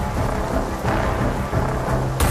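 Movie thunderstorm over Bombay: steady heavy rain hisses throughout while deep thunder rumbles roll underneath, with a sharp crack near the end.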